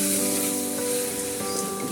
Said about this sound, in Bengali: জিরার গুঁড়ো এগুলো দিয়ে এখন আমি এই নিহারি পায়াগুলো আমি কষাবো